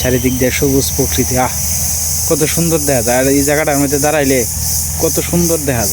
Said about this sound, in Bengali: চারিদিকে ঝিঝি পাখি ডাকতেছে।